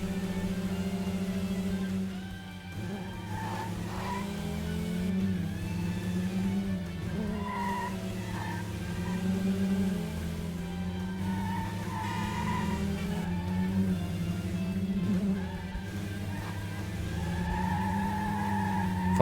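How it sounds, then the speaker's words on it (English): Tires squeal through a long handbrake slide in Metropolis Street Racer on Dreamcast, wavering skids over a steady engine drone and revs, loud and continuous with no talk. "handbrake slide"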